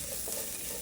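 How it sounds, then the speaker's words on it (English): Masala dosa filling with curry leaves sizzles and crackles in a hot pan, a brief, dense, steady frying hiss up close. "You can hear the sizzle. You can see the splattering."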